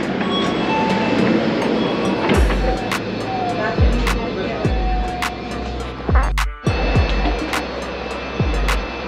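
Dubai monorail train running along its track, a steady rolling rumble with several low thumps and rattles, continuous throughout with some background noise.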